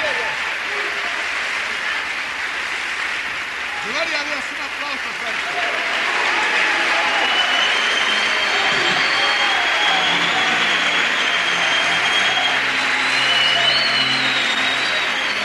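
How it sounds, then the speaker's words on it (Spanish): A church congregation gives a long, sustained round of applause that swells in the second half and stays dense and steady, with a faint tonal hum underneath. "Un aplauso cerrado."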